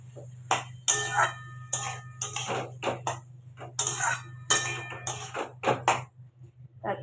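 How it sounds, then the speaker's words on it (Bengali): A utensil stirring turmeric and spices into food in a pan, giving a run of sharp metallic clinks and scrapes in an uneven rhythm over a low steady hum, close by with no talk. "এবার ভালোভাবে সব মিশিয়ে নেবো"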